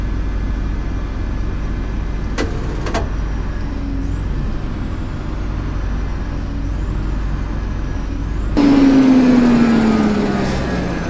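A 14,600cc MAN V8 biogas engine drones steadily and loudly, then cuts out near the end, leaving a descending whine as it winds down.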